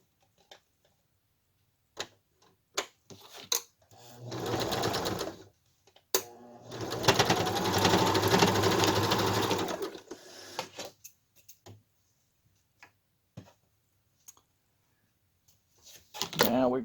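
Sewing machine stitching the pleated sides of a fabric mask in two bursts of close, rapid mechanical whirring, separated by clicks and handling taps and quiet gaps.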